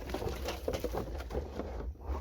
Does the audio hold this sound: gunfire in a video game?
no